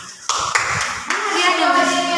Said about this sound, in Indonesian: Habis tepuk tangannya.